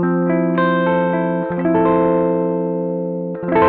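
Gibson electric guitar in the mixed pickup position, played through a Klon KTR overdrive pedal: sustained overdriven chords ringing steadily, with a few changes and a fresh strum near the end, close and loud with no talking.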